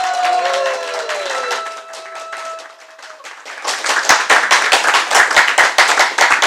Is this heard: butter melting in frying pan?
no